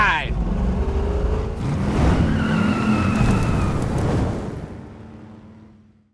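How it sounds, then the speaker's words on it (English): A 1967 Chevrolet Camaro with a 383 stroker V8 drives off, its engine rumbling loudly and building, with tire noise in the mix, then fading away toward the end; voices are faintly present. "Let's take a 67 for a ride."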